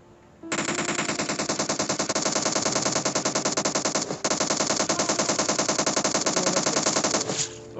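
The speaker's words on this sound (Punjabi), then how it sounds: "ਮੈਨੂੰ ਗੋਲੀਆਂ ਮਾਰੀ ਜਾਂਦਾ ਉਹ ਬਾਈ।" Automatic gunfire in the mobile battle-royale game PUBG Mobile on the Livik map: a loud, continuous rapid-fire stream lasting about seven seconds, broken by one brief pause midway, with no talking.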